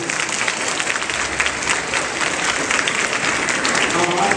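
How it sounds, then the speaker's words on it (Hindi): An audience at a school spiritual and motivational session claps loudly and continuously, a dense burst of applause filling the whole stretch. "जोरदार ताली बजाएगा अपने लिए।"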